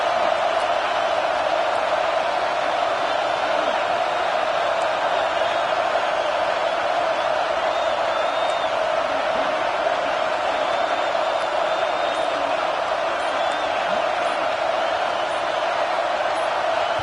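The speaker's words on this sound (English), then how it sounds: "And with this place rocking, the crowd forces a false start." A stadium crowd in the video game College Football 25 roars without a break, a dense, loud wall of cheering that holds steady for the whole stretch while the crowd forces a false start.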